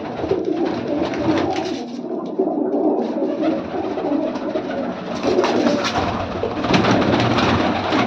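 Several pigeons kept for sale in Bathinda, Punjab coo repeatedly nearby, soft throaty calls overlapping against a steady rustling background.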